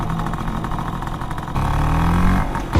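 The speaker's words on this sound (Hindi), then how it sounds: "फिर स्कूटर चला कौन रहा है?" A scooter engine runs steadily and close by, with a harmonic hum whose pitch climbs as it gets louder partway through. It keeps going throughout with no talk.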